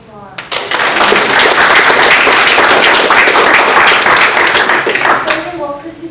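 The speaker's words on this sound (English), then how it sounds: "Let's do one more round of applause." A room full of people at a Senate meeting gives a sustained round of applause, loud and dense clapping that swells quickly and then tapers off near the end, with a voice heard briefly before and after.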